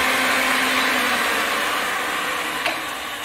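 Ridgid 300 pipe threading machine running while threading pipe, a loud steady motor whine and grinding hum that drops slightly toward the end, with a brief clunk late on, close up.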